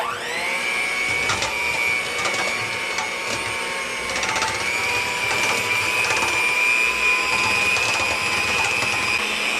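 An electric mixer runs on medium speed beating egg whites with cream of tartar and sweetener, a loud, steady motor whine with rattling beaters in a bowl, continuous throughout.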